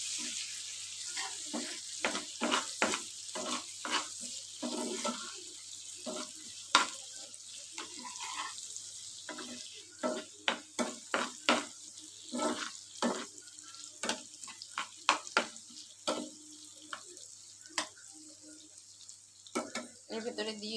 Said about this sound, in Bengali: আলুগুলোকে ভাজছি।